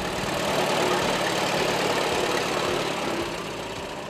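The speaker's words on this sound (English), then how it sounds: "This is a 1919 Advanced Rumley. The tractor is a 2-cylinder kerosene" A 1919 Advance Rumley two-cylinder kerosene tractor engine runs steadily at a county fair, a low rumbling drone with a faint pulsing rhythm that eases slightly toward the end.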